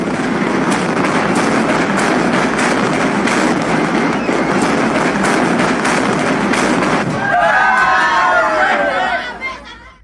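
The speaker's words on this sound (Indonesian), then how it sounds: "Pontianak akan dihebohkan dengan suara meriam karbit di setiap penjuru Sungai Kapuas." Carbide cannons fire along the Kapuas River in Pontianak on Eid night, sharp blasts punching through a dense, continuous roar of crowd chatter, loudest near the end before fading away.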